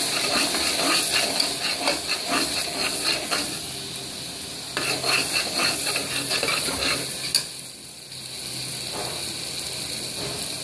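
Spice powder stirred into eggplant curry frying in oil, a steady sizzle under rhythmic scraping of a spoon against the pan, close and continuous with a short pause midway.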